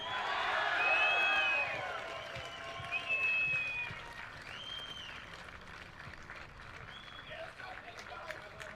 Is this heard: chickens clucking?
no